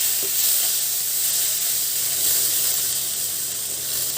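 Chopped tomatoes hitting a hot pan with coriander seeds, cumin and curry leaves for peanut chutney, giving a steady, loud, hissing sizzle that holds evenly throughout.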